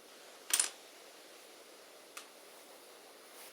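A shogi piece gives one crisp, fairly close click on a quiet table, with a much fainter tap a moment later and another at the end, alone with no talking.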